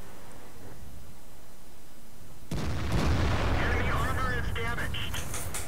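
Heavy tank gun of the Conqueror firing in World of Tanks, a sudden loud boom that cuts in mid-clip and rolls on with rumbling battle noise and faint game sounds after it.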